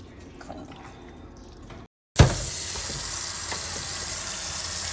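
Rinse water is poured off raw chicken pieces being washed for curry chicken, a soft trickle and drip that stops briefly, then returns as a loud, steady splashing gush close by.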